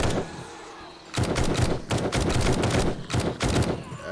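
Rapid bursts of gunfire in the 7 Days To Die zombie survival game, loud and close, starting after a quiet second and continuing in dense volleys with brief gaps.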